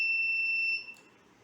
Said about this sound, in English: After a buzzer, recording starts.